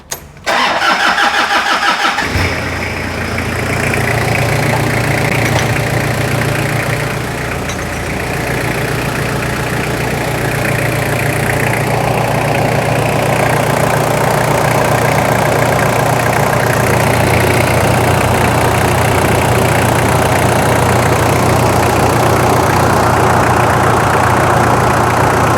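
A Toyota Hilux KZN165 engine cranks briefly, catches and settles into a steady, loud idle that drones on without pause, close to the microphone with no talk over it.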